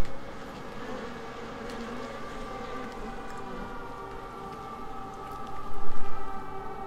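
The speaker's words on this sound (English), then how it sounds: "I can hear like an air raid siren." An air raid siren sounds in the video game Everybody's Gone to the Rapture as a steady, wavering drone that holds at moderate loudness throughout. It swells briefly louder near the end.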